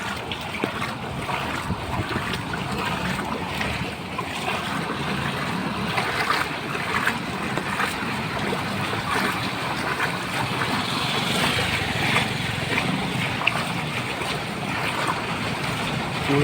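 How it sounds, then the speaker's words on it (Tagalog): Heavy rain pours steadily onto a flooded street in front of Quiapo Church, a dense, continuous wash of water noise with no voices. "Wala pa rin tigil ang ulan."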